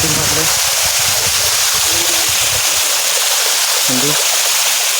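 Steady broadband rush of a waterfall and flowing stream at Tarlabadi waterfall, a constant loud wash filling the clip, with voices talking faintly underneath in places.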